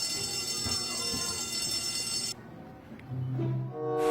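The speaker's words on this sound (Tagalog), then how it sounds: "Ano ba namang ringtone to? Kala ko may sunog." A phone ringtone that sounds like a fire alarm blares loud and shrill for about two seconds, then cuts off, leaving quiet room sounds and a brief tone near the end.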